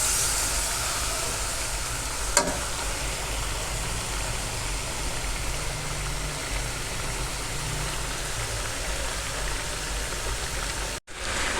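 Garlic ginger paste sizzling in a karahi for white chicken karahi, a steady hissing fry throughout with one brief click and a short break near the end.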